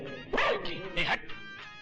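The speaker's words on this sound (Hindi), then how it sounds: "भौंकता है।" A dog yips and barks in a few short bursts in a Hindi action movie scene, close and fairly loud, mixed with people talking.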